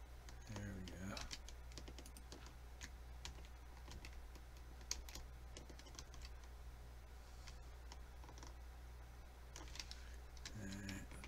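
Steady clicking of keys on a computer keyboard during a Skybounds building game session, with quiet rapid taps over a low hum and someone speaking intermittently.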